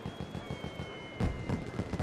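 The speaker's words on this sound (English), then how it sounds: "And fireworks?" Fireworks burst in the video game Ace Attorney Chronicles during a courtroom verdict celebration, a quick series of fairly loud popping bangs that grow denser toward the end, over a faint sustained tone.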